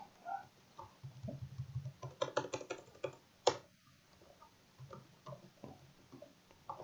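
Keyboard typing on a computer while building a Python PyQt5 newsreader app, a few quiet clustered bursts of key clicks with brief pauses, fairly close and soft, no talk.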